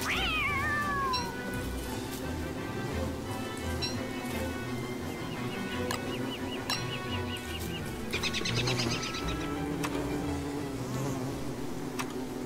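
A cat creature in the video game Don't Starve meows, with a rising-falling yowl at the start and more cries later, over a steady game soundtrack and buzzing insect-like ambience.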